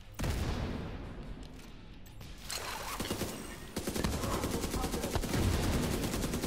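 Rapid bursts of gunfire and explosions crackle continuously in Tom Clancy's The Division 2, dense and loud, building into a heavier barrage toward the end.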